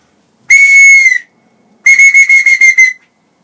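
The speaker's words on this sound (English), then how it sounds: "Effective whistle, definitely." Whistle on a walking stick blown in two loud, close blasts: a long steady shrill tone, a short pause, then a rapid series of pulsed chirping toots.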